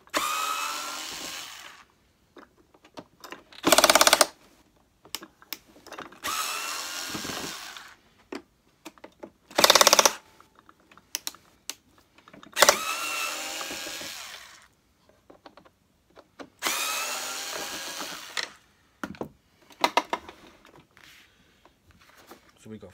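Power screwdriver undoing screws on a Hoover Turbo Power UB088 vacuum cleaner during disassembly, several short loud whirring bursts separated by pauses, with someone talking between them.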